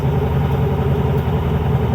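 Engine of an abandoned supercar running at a steady fast idle near 2,500 rpm, a continuous close, loud drone with an even low rumble and no pauses.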